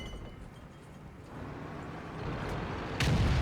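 An M44 artillery shell strikes an AT-15A tank in a World of Tanks-style replay, a sharp loud impact crack near the end following low rumbling battle ambience, alone without talk.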